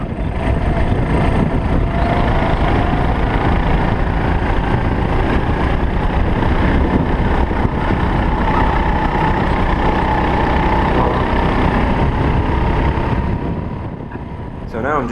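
Rental go-kart engines buzz and drone continuously on a karting track, heard close from the kart with wind buffeting the microphone, fading slightly near the end.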